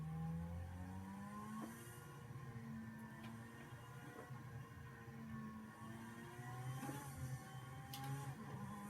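Engine of a car in a racing video game climbs and drops through gear changes over a faint, continuous wash of tire and track noise, heard at low volume.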